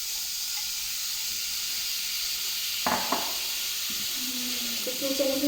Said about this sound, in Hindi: अब सबसे पहले मैं कीमा डालूंगी।